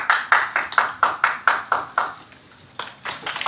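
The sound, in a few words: loud audience clapping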